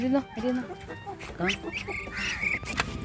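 Chickens and ducks cluck and quack in short, busy bursts close by, mixed with other farmyard noise.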